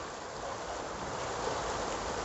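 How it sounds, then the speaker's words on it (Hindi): Water from the Sawan Bhado fountain at Saheliyon ki Bari garden in Udaipur splashes steadily like a light drizzle, a dense, continuous hiss of falling droplets that holds an even loudness throughout. "यहाँ की जो आवाज़ है वो बिल्कुल ऐसी आती है जैसे रिमझिम बारिश हो रही हो।"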